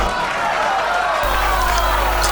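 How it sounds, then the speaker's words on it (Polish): An audience claps for a young boy from Ciechanów about to sing at a charity singing event, steady dense applause with crowd noise, loud and continuous through the moment. "Brawa!"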